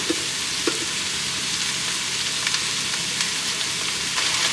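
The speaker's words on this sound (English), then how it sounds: "So I'm gonna add 2 diced onions, all of the chopped veg, 2 tablespoons of chopped garlic" Diced onions, chopped vegetables and chopped garlic fry in olive oil in a cast iron pot, giving a loud, steady, close sizzle with faint crackles throughout and no talking.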